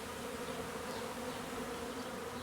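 A swarm of angry honey bees drones steadily around a hive during installation of a new bee package, a soft, continuous buzzing with no break.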